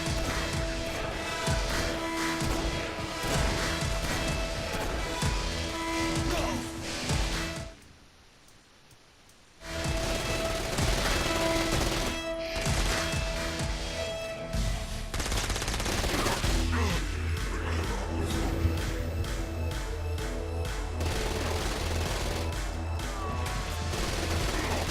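Rapid automatic gunfire and explosive battle noise from the video game Saints Row: Gat out of Hell, dense and loud, broken by a brief near-silent gap before the firefight resumes with steady rattling bursts.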